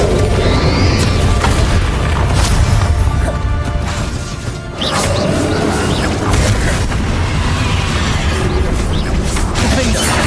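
Confringo and Bombarda spell blasts in Hogwarts Legacy crash and boom in a loud, dense barrage of combat impacts, with a short dip midway, as a voice talks over the fighting.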